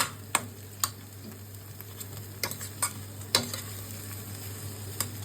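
Fried chillies are stirred in a hot pan with oil, a steady low sizzle beneath a few sharp scraping clicks of the spoon against the metal, close and fairly quiet.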